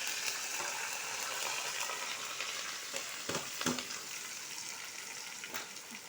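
Dried red chillies and curry leaves crackle in hot oil with popped mustard seeds, a close, steady sizzle with a few louder spits and stirring scrapes midway, no speech.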